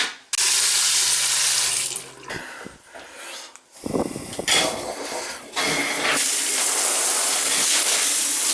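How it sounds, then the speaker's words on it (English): Water gushing from a Symmons shower valve under a tap, a loud steady hissing spray broken by a few brief pauses and dips midway before resuming full force. "Turn the water on."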